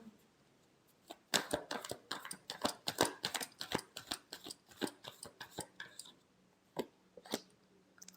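Tarot cards being shuffled by hand make a quick run of crisp, papery clicks and riffles, dense for several seconds, then a few isolated snaps trailing off, close and fairly quiet.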